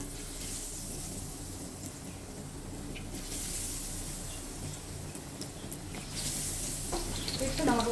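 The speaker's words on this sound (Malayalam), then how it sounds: "ഇത് പീസ് ഇട്ട് കൊടുത്തിട്ട് നമുക്ക് ഇതുപോലെ ഓരോന്നോരോന്നായിട്ട് പറക്കി എണ്ണയിലോട്ട് ഇട്ട് കൊടുക്കാം" Brinjal bajji pieces frying in hot oil: a steady, close hiss of sizzling that swells and crackles more toward the end.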